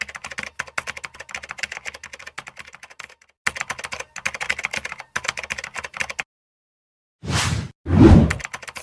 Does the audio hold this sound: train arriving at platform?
no